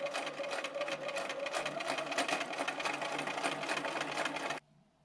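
A sewing machine stitches a scant quarter-inch seam in one continuous, close, fast run of about four and a half seconds, then stops.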